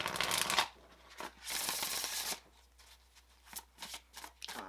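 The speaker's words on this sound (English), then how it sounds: "I'm going to give it a little bit of a shuffle here." An oracle card deck is shuffled by hand in two loud riffling bursts, followed by softer scattered card taps and slides, close up with no talking.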